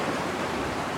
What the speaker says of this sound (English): There's waterfalls everywhere.